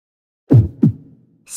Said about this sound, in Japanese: 心臓の音は、 さらに大きくなった。